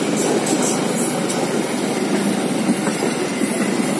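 Train passing close by, a steady loud rolling roar of wheels and carriages with clickety-clack rhythm filling the whole stretch, no talk over it.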